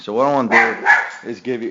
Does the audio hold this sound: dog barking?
yes